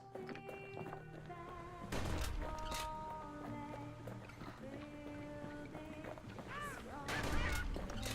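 Cartoonish bird honks from the video game Bastion, a few scattered calls and chirps over a steady backdrop of layered game music with bursts of action noise.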